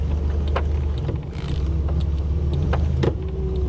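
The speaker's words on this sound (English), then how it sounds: "This car is having such a hard time" A struggling 1987 Buick Grand National runs with a steady low engine drone, strained and uneven, with a few brief knocks and clicks on top; no voices.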